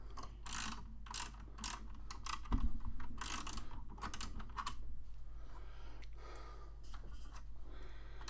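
Small metal parts of a Valentino Rossi model motorcycle kit are tightened, giving a run of quiet, close ratcheting clicks and light mechanical taps that continue steadily with no talking.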